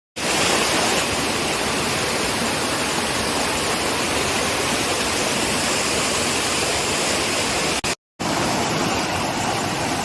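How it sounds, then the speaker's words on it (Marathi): A loud, constant rush of a forest stream in heavy monsoon rain in Konkan fills the whole clip, a steady roar like fast water, briefly cut out near the end. "इकडे झरा आहे खाली आणि हे सर्व पाणी सड्यावरून येत आहे"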